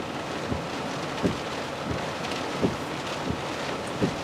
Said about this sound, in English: Winds are probably now between 30 and 40 miles an hour.